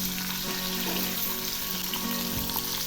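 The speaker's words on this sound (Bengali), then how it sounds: "এই ফুলকপিগুলো আমি হালকা করে ভেজে নেব।" Cauliflower pieces fry lightly in a small bowl of white oil in a wok, giving a steady, close sizzle with occasional stirring for a cauliflower rezala dish.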